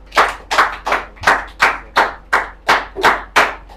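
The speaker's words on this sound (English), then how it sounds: "A round of applause, please" Slow, evenly spaced handclaps, about ten loud distinct claps roughly a third of a second apart, sound close by at a small project showcase and Q&A session, with no talking.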